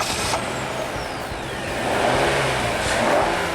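A 175-horsepower 2.4-litre four-cylinder engine in a 2010 Kia Sorento pulls away, a moderate engine drone that builds slightly toward the end, with a passing whine and no speech.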